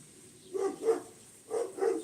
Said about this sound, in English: I'll let them stop barking first.